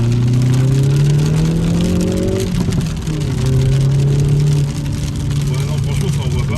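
A Hyundai i30N with a manual gearbox accelerates hard, its engine note climbing, dropping at a gear change and then rising again. People talk over the steady rumble of the cabin.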